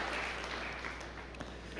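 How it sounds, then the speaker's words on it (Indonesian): A church congregation claps warmly for God during a sermon, sustained dense applause filling the room throughout, loud and continuous with no pauses. "Yang setuju berikan tepuk tangan yang meriah buat Tuhan"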